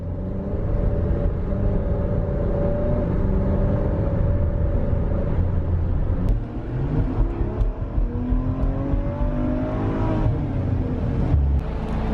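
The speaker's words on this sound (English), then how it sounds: "Smaller engine, less cylinders on the Stelvio makes it a little quieter than the Levante." An Alfa Romeo Stelvio, with a smaller engine and fewer cylinders, drives along with a steady, fairly loud engine drone and rumble inside the cabin, the pitch rising and falling slightly over time.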